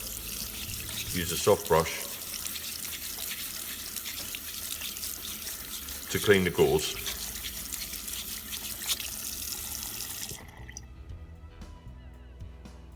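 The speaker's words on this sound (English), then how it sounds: "rinse under running water" Tap water runs steadily while a shower thermostat cartridge is rinsed under it, a continuous splashing hiss with a couple of louder clatters, then cutting off near the end; a voice speaks over it.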